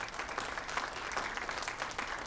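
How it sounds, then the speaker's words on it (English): Audience at a heroin awareness presentation giving a round of applause for the presenters, an even, continuous patter of many hands, fairly distant and subdued. "So I think a big round of applause goes out to them."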